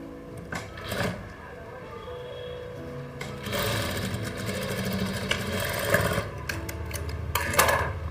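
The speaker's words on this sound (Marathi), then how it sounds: "आता मी हे पलटी करणार असं आणि ह्याही साईडने शिलाई मारणार." A sewing machine stitches a seam on the back neck of a blouse: a close, steady mechanical whirring run with short starts and stops, and clicks of fabric handling in between.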